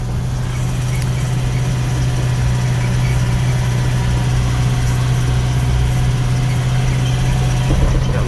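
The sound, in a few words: Eicher truck engine idling while driving on a dark forest road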